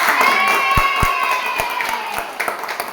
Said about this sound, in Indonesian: Hasil proyek kita untuk hari ini kita kasih tepuk tangan.